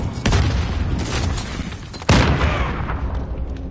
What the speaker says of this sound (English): Why do I keep getting hit with random grenades?